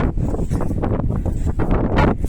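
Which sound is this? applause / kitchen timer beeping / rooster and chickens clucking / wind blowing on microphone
wind blowing on microphone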